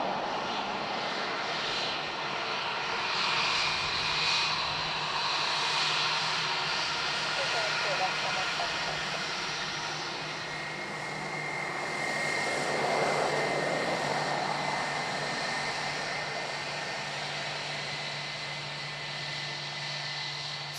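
An airplane passes by at Dublin Airport, its engine roar swelling and fading over about twenty seconds at moderate distance, with voices talking over it at times.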